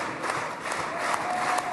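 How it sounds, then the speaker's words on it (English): Sustained applause from lawmakers in the Israeli Knesset greeting the US President, a dense even wash of many hands clapping at moderate distance, steady and unbroken. "A rapturous applause for the US President"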